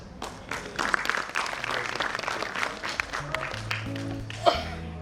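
Steady applause from a theatre audience at a play, many hands clapping continuously with some murmuring voices mixed in.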